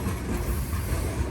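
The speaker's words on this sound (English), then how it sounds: "This is a heavy train." Heavy loaded rock freight train passing close by: a loud, dense rumble and grinding rush of wheels on rails, continuous and heavy throughout.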